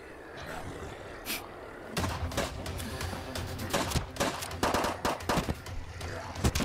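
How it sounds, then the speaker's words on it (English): Rapid bursts of shotgun fire and other gunshots in a Minecraft zombie apocalypse animation, a run of sharp cracks that starts at two seconds and thickens into dense, irregular volleys. "If he don't got the fish, he got the shotgun"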